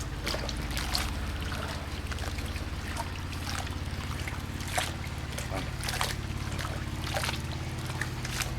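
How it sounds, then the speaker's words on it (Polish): A goose is prodded with a stick in a pot of water heated to 76 degrees on a gas burner, giving soft sloshing and trickling splashes over a steady low hum. "Tutaj patykiem se tak ją popychamy, żeby woda wszędzie weszła w pióra."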